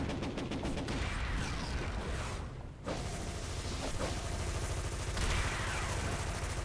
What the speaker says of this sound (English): Yep, I'm getting shot at.